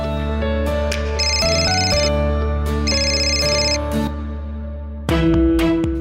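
A mobile phone ringtone rings loudly and continuously in a living room, a repeating electronic melody with bright chiming bursts, then a brief break before the tune restarts.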